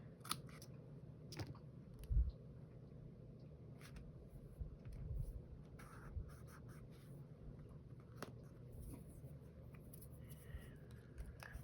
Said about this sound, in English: I'm gonna snip that here